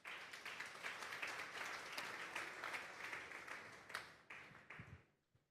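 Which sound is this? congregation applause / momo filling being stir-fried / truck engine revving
congregation applause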